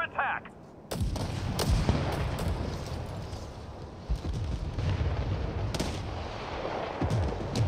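Heavy artillery and gunfire from an airstrike in the video game World War 3 pound continuously, with sharp explosive blasts punctuating a dense, loud rumble.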